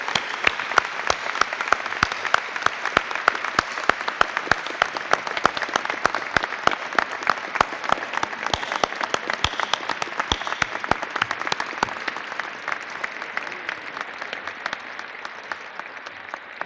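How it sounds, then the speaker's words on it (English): Sustained applause from a large audience at the close of a university presidential inauguration ceremony, dense and steady clapping that gradually thins and softens toward the end. "Now, maybe we should have one last round of applause for Dr. Dooley, for Lynn Baker Dooley,"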